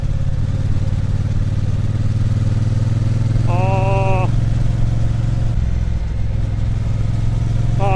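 A Triumph Bonneville T120 engine drones steadily and loudly while riding on the road, a low continuous rumble with a brief high tonal whine midway and a slight shift near the end; someone speaks over it.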